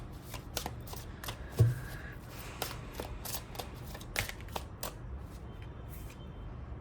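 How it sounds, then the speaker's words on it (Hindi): A deck of tarot cards is shuffled close up, making irregular crisp snaps and flutters over a faint steady background hum. The loudness stays fairly even between the louder card slaps. "अगर आपने पहले शफल में क्वेश्चन नहीं पूछा था तो प्लीज़ इस शफल में पूछ लीजिएगा"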